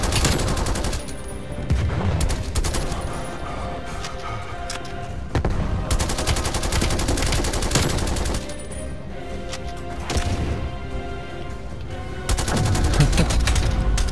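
Sustained gunfire in a video game free-for-all match, with dense automatic bursts and single shots rolling through the whole stretch. The volume swells and dips between volleys, and no voice is heard.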